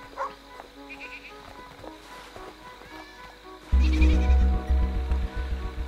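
Sheep bleat in the video game Sword & Sworcery EP, several wavering calls over a soft musical backdrop, followed by a louder burst of low rhythmic music and noise.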